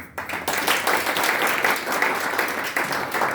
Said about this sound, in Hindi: एक बार जोरदार तालियां आपके अपलाइन सर संजू सर के लिए